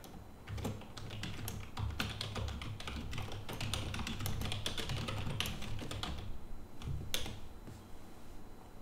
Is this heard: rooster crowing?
no